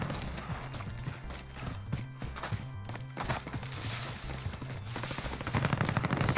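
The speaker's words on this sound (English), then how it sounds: "I hear a bunch of shots coming from west" Distant gunfire in Call of Duty Warzone: scattered rapid bursts and single shots crackle faintly across a busy game soundscape, with mechanical clatter and rising noise toward the end.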